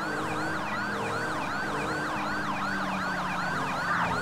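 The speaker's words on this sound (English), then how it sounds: "we don't need all these sirens on" Several wailing video game vehicle sirens overlap continuously, sweeping up and down in pitch, loud and close with a low engine hum underneath.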